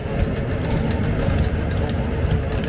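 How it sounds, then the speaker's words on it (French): A fishing dredge boat's engine runs at full power, a loud, steady low drone with rough mechanical throbbing that continues unbroken throughout. "Le moteur, dans un véritable vacarme, donne sa pleine mesure."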